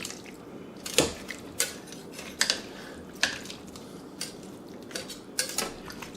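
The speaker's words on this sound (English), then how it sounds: "So I'm just going to mix everything up" A utensil stirs beef brisket stew with bay leaves and oyster sauce in a pot, giving intermittent clinks and scrapes against the metal over a low, quiet background, with no talk.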